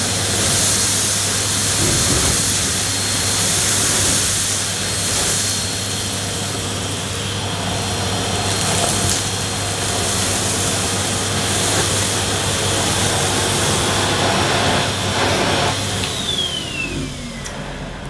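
A Numatic Henry vacuum cleaner runs on high speed, a loud steady motor drone with a constant hum and airy hiss that holds for most of the stretch before winding down at the end.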